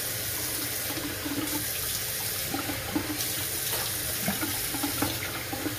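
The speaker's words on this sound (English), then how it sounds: "And I'm using a little bit of warm water." Warm water runs from a shower tap in a steady, close splashing rush that continues without a break, with small spattering variations and no talk.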